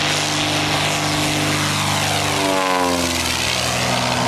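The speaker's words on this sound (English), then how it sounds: "He's going to do a flyby." A propeller airplane makes a low flyby near Hervey Bay, its steady engine drone loud and close, with a rising-then-falling pitch sweep as it passes overhead.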